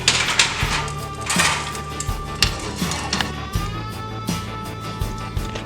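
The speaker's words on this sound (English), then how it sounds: "I'm gonna go ahead and clean up my pan" Clanking and scraping of a metal frying pan being cleaned out after frying salmon cakes, with repeated close knocks and clinks of utensils against the pan in an irregular rhythm.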